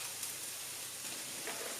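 Finely chopped garlic sizzles in a saucepan with a steady, close, broadband frying hiss that stays even throughout, with a faint clink at the end.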